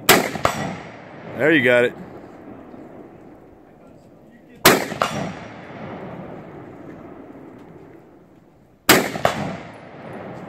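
Three loud, sharp M1 Garand rifle shots ring out at a Marine Corps reunion shooting, spaced several seconds apart with echoing tails, while someone speaks briefly between the first two.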